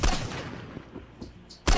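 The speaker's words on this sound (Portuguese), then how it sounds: "Tiro." Gunfire in the survival video game Miscreated: a loud, sharp burst opens the clip and another strikes near the end, with quieter game noise and faint pops in between.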